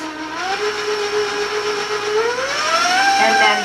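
An electric hand mixer whirs steadily through chocolate half sheet cake batter, a loud continuous motor whine that shifts pitch slightly as the beaters move, with no talk over it.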